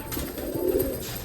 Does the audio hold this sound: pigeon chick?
yes